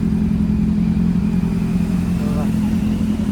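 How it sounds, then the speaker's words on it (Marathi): A Ducati motorcycle engine runs steadily at idle, a loud, constant close rumble throughout, with voices faintly present beneath it. "चालू दिसेल तुम्हाला बाईक."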